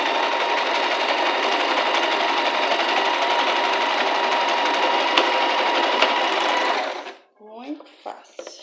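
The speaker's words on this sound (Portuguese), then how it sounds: "Eu só vou virar ela e vou passar só uma costurinha assim." A sewing machine stitching a fabric face mask runs continuously at a steady, loud, close whir for about seven seconds, then stops, followed by brief handling sounds.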